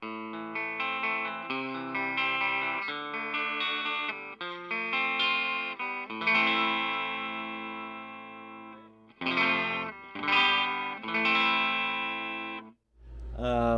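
Clean electric guitar through a 5-watt 5F1 tweed tube amp, playing sustained chords and arpeggios with a shimmering, slightly chorused tone, ringing out alone with short pauses between phrases.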